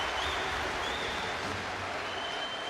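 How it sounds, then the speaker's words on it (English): Crowd noise fills a basketball arena at a EuroBasket game between Serbia and Turkey, a dense wash of cheering and clapping that holds steady and loud for the whole moment without a break. "and he hears the applause"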